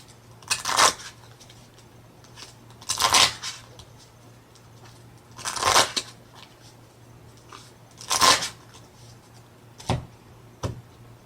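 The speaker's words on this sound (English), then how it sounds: "I'm going to go ahead and choose that one, and then shuffle up." A deck of Pokémon trading cards riffle-shuffled several times, five crisp fluttering bursts about every two and a half seconds with quiet gaps between.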